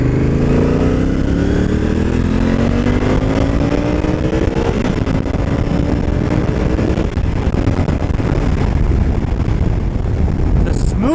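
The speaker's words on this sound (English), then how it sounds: "The smoothness of this motor and the way that this thing shifts to the gears is really, really impressive." A 2018 Honda Africa Twin ATAS CRF1000L motorcycle is ridden at speed, its engine droning steadily and rising in pitch through the gears, loud and close under heavy wind rush.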